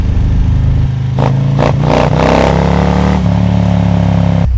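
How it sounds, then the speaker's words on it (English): A Harley bagger motorcycle engine idling loud and close with a deep steady rumble, blipped through several quick throttle revs before settling back to idle. "I'm gonna let you hear the sound of that for a second."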